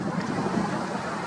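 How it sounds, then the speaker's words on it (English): Steady, broadband wind rushing against the microphone outdoors over Los Angeles, a continuous close roar for about a second, with no voices. "Oh, the wind is kicking up here."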